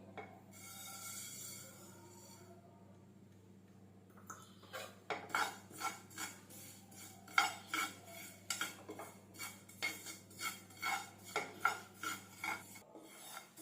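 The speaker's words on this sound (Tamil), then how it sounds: "இப்போ இதில் கருப்பு எள்ளு வந்து நான் ஒரு அரை டம்ளர் எடுத்திருக்கேன் இதையும் சேர்த்து நம்ம வறுத்துக்கலாம்" Half a tumbler of black sesame seeds dry roasting in a pan, with a steady low hum at first, then a regular run of close scraping and rattling strokes as the seeds are stirred against the metal.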